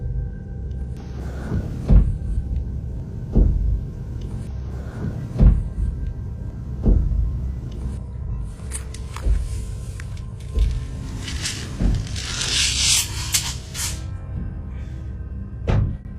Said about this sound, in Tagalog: parang galing sa aparador ang tunog